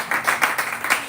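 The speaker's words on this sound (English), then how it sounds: "Can we clap better, please?" Short burst of clapping from a church audience, a handful of distinct rhythmic claps close by in quick succession.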